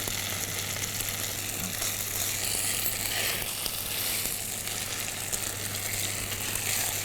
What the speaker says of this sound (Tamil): இது கொஞ்சம் ட்ரை ஆகிட்டு ஸோ நம்ம கொஞ்சம் நெய் போட்டுக்கலாம்